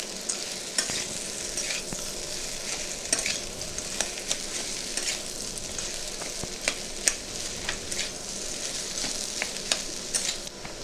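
Singara masala with peanuts fries and sizzles in a pan as a spoon stirs it steadily, with a continuous hiss and irregular scraping clicks throughout and no voices.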